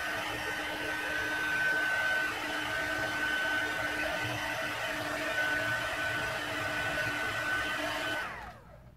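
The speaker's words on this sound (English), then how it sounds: "quickly out with the blow dryer" A hair dryer blows steadily with a loud, even whoosh and a high whine, running continuously before cutting off near the end.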